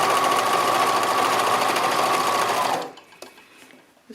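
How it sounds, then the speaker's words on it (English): A sewing machine stitches a rib knit neckband onto a t-shirt, the band facing up with the garment beneath. It runs loud and steady for nearly three seconds, then stops, leaving faint handling noises. "notice that I'm sewing it with the neckband facing up and the garment underneath"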